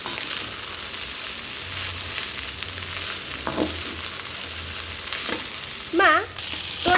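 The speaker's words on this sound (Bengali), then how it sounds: "এবার এটাকে নাড়াচাড়া করে ভালো করে মিক্স করে নিতে হবে, যাতে ভাতটা আরেকটু ঝুরঝুরে হয়।" Leftover rice fries for fried rice in a pan, giving a steady close sizzle while it is stirred, with a few scraping knocks and a brief high squeak near the end.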